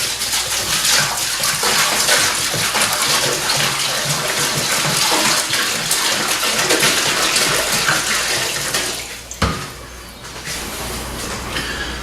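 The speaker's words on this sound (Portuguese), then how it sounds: "Então nós vamos adicionar aqui 25 litros de água." Steady rush of 25 litres of water pouring into a large home-brewing beer pot, continuous and close, with a brief clunk near the end before the flow resumes more quietly.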